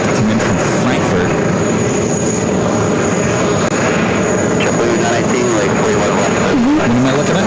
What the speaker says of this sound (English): 777-300ER. I believe this is the flight that came in from Frankfurt.